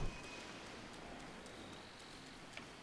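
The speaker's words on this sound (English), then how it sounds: "Why is it raining?" Rain in the video game Zelda Breath of the Wild, a steady, even hiss of falling rain throughout, soft and continuous with faint ambient tones.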